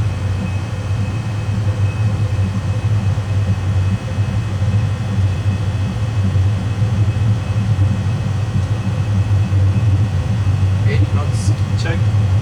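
Airliner engines at takeoff thrust give a loud, steady low roar with a broadband rush, heard from inside the aircraft, with crew voices briefly over it near the end.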